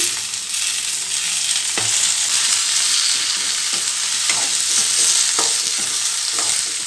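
Tomato fries into a mutton curry base with a steady, loud sizzle. A spoon scrapes and stirs the pan at intervals, and several sharp knocks stand out over the constant frying hiss.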